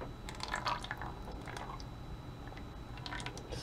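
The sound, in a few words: melted soap being poured into a mold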